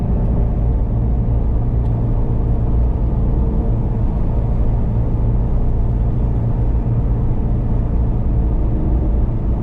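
A 2019 Ford Mustang Shelby GT350 in track mode gives a loud, continuous low engine rumble and road drone from inside the cabin, steady and unbroken throughout, with no voices.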